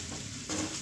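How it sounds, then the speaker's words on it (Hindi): Hot tempering oil for sabudana khichdi sizzling in a pan, a soft hiss that swells partway through and ends with a brief louder crackle, close and fairly quiet with no talking. "ये गया सही तड़का"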